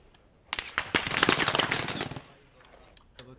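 Loud burst of automatic gunfire, rapid rounds cracking in quick succession for about a second and a half before cutting off, followed by quieter faint movement.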